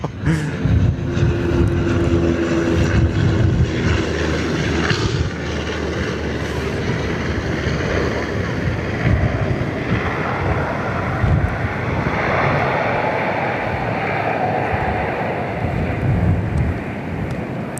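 A fixed-wing airliner touching down firmly in a crosswind at Perth Airport, its engine roar steady and fairly loud throughout, mixed with gusty wind buffeting the microphone and no talk over it.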